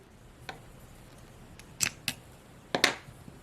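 Scissors snip through crochet yarn while fastening off a finished crochet poinsettia, giving a few short, crisp cuts, two close together and then a louder double snip, close by in a quiet room.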